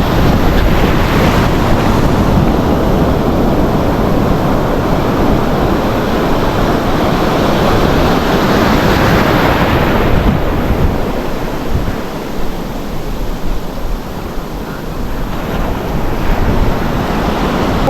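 Loud, continuous roar of big ocean waves crashing and surging at a shallow-water fishing spot, with heavy wind noise buffeting the microphone and no talking.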